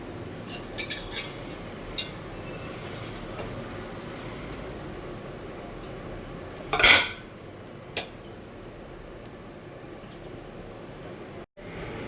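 Chopped onions and minced garlic cooking in a pan for a Bengali kochur loti dish, a steady broadband sizzle with scattered utensil clinks and one louder clatter of metal against the pan.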